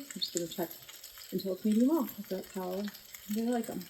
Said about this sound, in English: So you can probably hear the steak sizzling in the background.